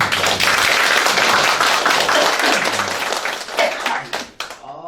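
Audience applause at a local council member's report meeting in Incheon: a dense, steady burst of clapping from a crowd indoors, tapering off toward the end with a few scattered claps.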